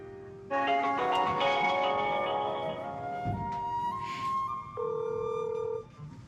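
A telephone rings steadily while a call is being placed for a church prayer, its sustained tones lasting several seconds with brief pitch changes and no talk over it.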